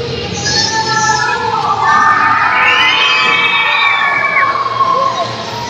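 A packed wrestling crowd backing the tag team Sons of Liberty cheers and shouts loudly, with high-pitched children's voices prominent in a sustained roar that peaks midway and stays strong throughout.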